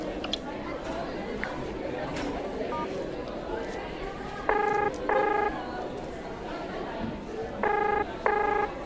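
A phone keypad beeps out a call, with two pairs of short dialing tones in the middle and two more near the end, over steady background chatter and nearby voices talking.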